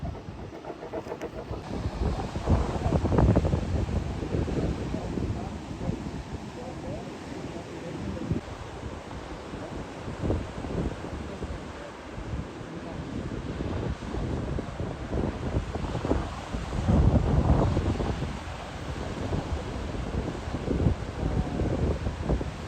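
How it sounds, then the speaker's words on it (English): Strong wind blows on the coast of Portugal, buffeting the microphone with loud, uneven rumbling gusts that swell and ease throughout. "It's a little windy, of course."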